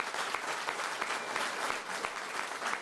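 A crowd claps steadily at a press conference for an NDP campaign kickoff in London, Ontario, a dense, even patter of many hands with a few sharper claps standing out, with no voices over it.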